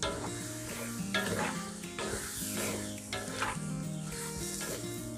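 Crushed chili, ginger, garlic and cumin are stirred in an oil-free pan, giving a soft continuous sizzle with rhythmic scraping strokes every second or so, close and steady, with no one talking.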